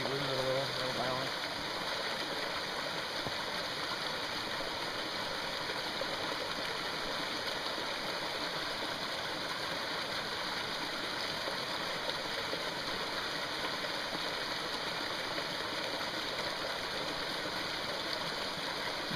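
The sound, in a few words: mountain stream flowing over rocks during creek crossing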